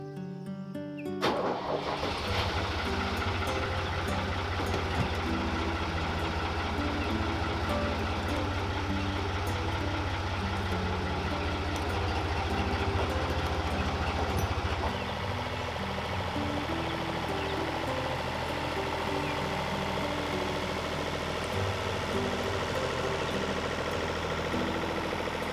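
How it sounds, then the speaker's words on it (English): A tractor engine turns over and settles into a steady, loud diesel rumble that keeps running without a break. "let's take the tractor out for a test run"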